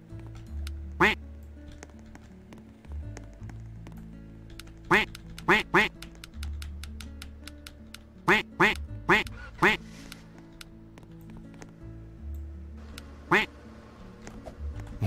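Ducks quack in the Roblox game Lumber Tycoon 2, sharp clustered quacks repeating every few seconds over a low, steady game background hum.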